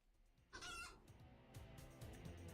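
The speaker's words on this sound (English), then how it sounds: "The severity of their angry clucks is so great that they can create small shockwaves." Angry clucking of a Cluckabilly, a chicken-like monster in the video game Cassette Beasts, a sudden burst of squawks followed by several sharp clucks over background game sound.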